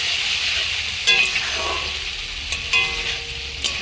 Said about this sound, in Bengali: ততক্ষণ আমি ভালোভাবে কষিয়ে নেব